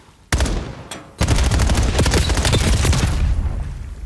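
Call of Duty match with a grenade blast followed by a dense, loud burst of rapid gunfire, a brief sharp crack first, then a short pause and sustained close automatic fire that slowly tails off.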